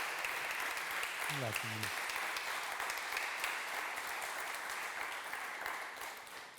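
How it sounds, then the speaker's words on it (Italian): A studio audience at an Italian talent show gives sustained applause, dense and continuous throughout, while someone briefly speaks over it early on. "un applauso così lungo non l'abbiamo mai registrato"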